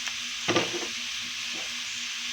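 Sauce poured into a pan of spicy squid adobo as it sizzles, a short burst of hissing and stirring, close and moderately loud, over a steady low frying crackle.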